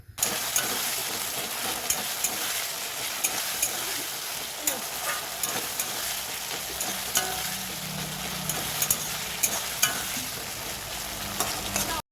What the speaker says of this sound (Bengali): এবার ভালো করে মাংসটা দিয়ে কষাচ্ছি